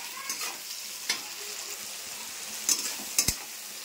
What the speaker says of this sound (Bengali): এবার দিয়ে দেবো আদা রসুনের পেস্টটা।